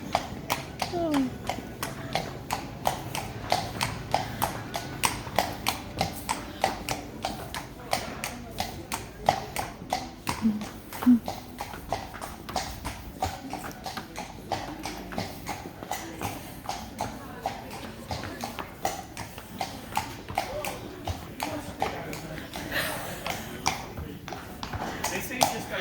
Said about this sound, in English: You want to see the horsey? Isn't he beautiful?